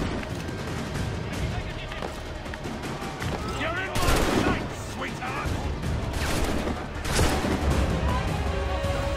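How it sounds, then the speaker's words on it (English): Enemy gunfire in the Assassin's Creed 3 video game: scattered sharp shots and bursts crack over a busy game soundscape, with someone talking over the action. "Now these guys are shooting me?"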